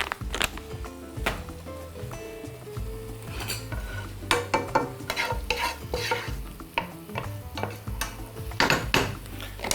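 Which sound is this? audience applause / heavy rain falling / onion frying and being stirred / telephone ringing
onion frying and being stirred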